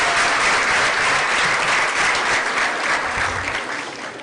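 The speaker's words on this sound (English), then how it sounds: "Give her a round of applause." Audience applause fills a hall at an award dinner, steady and dense from start to finish, easing slightly toward the end with no voices over it.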